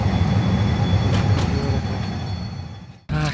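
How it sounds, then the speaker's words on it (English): Tram rumbling across a bridge over the river in Porto, a steady low rolling roar with faint squeals that fades before a louder burst of wheel noise at the end, heard up close in the open air. "Only trams can drive on this bridge."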